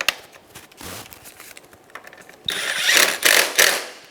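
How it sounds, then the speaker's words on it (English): A ratchet clicks in short bursts as it snugs down the screw holding the radiator fan on a 2012-2016 Subaru Impreza. The clicks are faint and sparse at first, then louder and quicker near the end. "Install the fan, install it into the pegs, and then install your screw."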